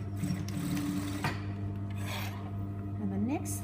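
A sewing machine stitching an edge through chunky fabric, running in a steady whirring buzz at a controlled pace, close and clear with faint squeaks and a brief clack partway through.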